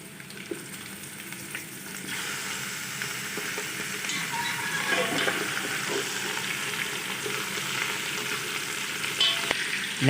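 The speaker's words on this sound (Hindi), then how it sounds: "रंग बदलने तक चिकन को भून लेंगे अच्छी तरह।" Chicken pieces fry with golden onions for Arabian chicken kabsa, a continuous close sizzle that grows louder and denser partway through, with occasional stirring scrapes.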